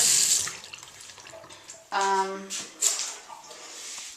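A bathroom tap runs briefly in a house without power, where the water smells of rotten eggs. It gives a short, close gush of flowing water, and a voice talks around it.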